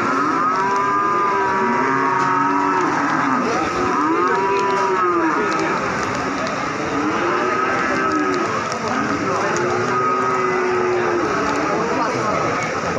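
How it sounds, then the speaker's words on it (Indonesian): Several cattle moo repeatedly in long, low calls one after another at a livestock market in Pati, Indonesia, during heavy rain, with a busy background of chatter and ambient noise. "ini ada sapi-sapi bibitan supranya pasar sapi Wage dan Margorejo Pati ini"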